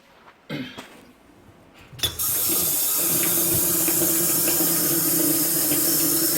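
Water starts gushing into a Danby twin tub washing machine after a couple of clunks, then keeps running steadily and loudly as a constant rushing fill.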